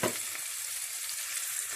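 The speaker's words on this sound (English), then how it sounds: "I am going to let this fry until golden brown" Chopped red onions frying in a pan for a chickpea and kidney bean curry, a steady close sizzle with a brief louder burst at the start, no talking.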